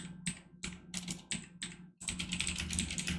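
Typing on a computer keyboard, a run of separate clicky keystrokes in short bursts, then a faster, denser flurry of key taps, close and fairly quiet.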